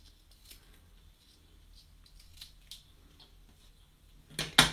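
Scissors trim the edges of a craft piece, giving soft, close snips spaced irregularly that end in a louder pair of cuts, with no voices over them.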